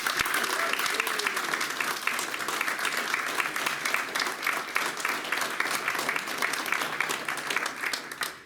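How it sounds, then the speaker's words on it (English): Large audience applauding at a retro gaming convention panel, a thick continuous roar of many hands clapping that holds steady for several seconds and fades slightly at the end. "Can I have a massive round of applause"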